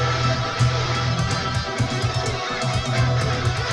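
Electric guitar solo in a heavy rock mix, with a faint harmony guitar underneath and tom hits coming in; dense, loud full-band sound with steady drum hits throughout.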